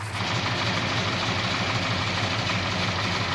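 A 1968 383 V8 engine in a 1966 Plymouth Satellite rumbles in a deep, steady idle at close range, a low even throb with no revving and no voices.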